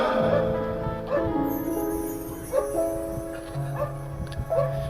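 A dog barks and yips repeatedly during a Hindu religious discourse, sharp barks recurring at uneven intervals over a sustained background of devotional music and voices.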